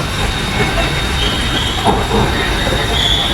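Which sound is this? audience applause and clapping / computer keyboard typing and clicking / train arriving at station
train arriving at station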